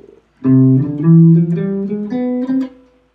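Guitar notes ascend a harmonic major scale one by one at an even pace, close and clean, each note ringing briefly into the next before fading out.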